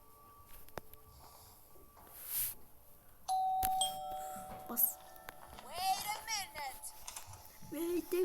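A doorbell chimes with a bright electronic ding, sounding among game effects and keyboard clicks while a person talks.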